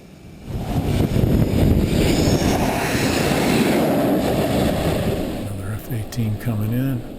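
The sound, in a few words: jet landing on USS Nimitz carrier deck, catching arresting wire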